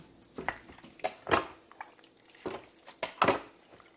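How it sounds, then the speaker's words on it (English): Swai fish fillets are stirred in a crock pot: wet squishing and clinking scrapes of a utensil against the pot, irregular and close. "I'm just going to mix them up"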